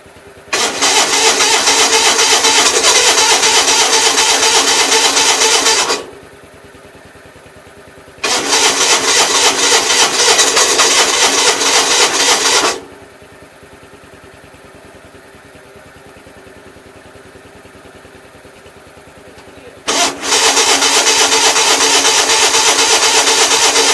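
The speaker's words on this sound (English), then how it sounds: "At least listen to her fire up with the choke." An engine fires up on choke three times, each a loud, steady run of several seconds that cuts off to near quiet before the next.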